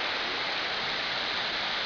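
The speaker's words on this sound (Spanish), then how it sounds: "una cascada que entra por un óvalo, altura 35 metros, sus aguas cristalinas en medio de los peñascos" The Ojo de Dios waterfall near Mocoa, Putumayo, a 35-metre cascade dropping through an oval opening among rocks in Amazon jungle, roars as a dense, steady rush of falling water, loud and unbroken.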